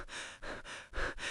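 A woman pants heavily after waking from a nightmare, with close, rapid breaths in a steady rhythm of three or four gasps.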